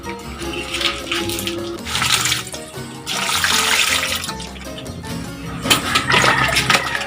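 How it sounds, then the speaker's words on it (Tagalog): Herbal plants are washed under running tap water, a continuous loud splashing gush that surges in waves for the whole stretch, close and alone. "Hugasan muna natin."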